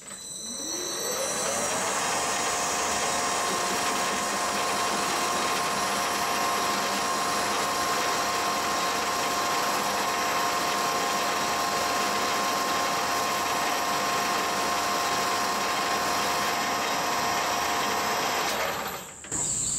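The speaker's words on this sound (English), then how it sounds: "and we'll start the lathe. I'm going to run this at 315 RPM" A metal lathe running a parting cut at 315 RPM gives a loud, continuous steady machine drone with a faint high tonal whine, unbroken for nearly twenty seconds before it cuts off, with no talking.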